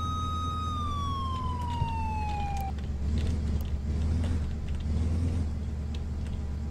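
A wailing police siren in a video game holds a steady tone, then drops in pitch and cuts off, over a constant low engine rumble that continues throughout.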